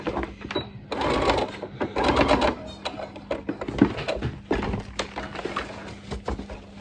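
Sewing machine stitching a fabric face mask, running in short, uneven bursts of rapid mechanical chatter, close and fairly loud, with brief pauses and clicks between runs.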